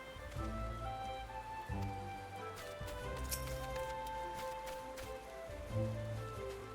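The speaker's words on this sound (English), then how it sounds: "Is it raining over here too?" Steady rainfall patters across the ground in Final Fantasy XIV, a soft continuous hiss layered beneath game music with held tones and occasional faint clip-clop taps.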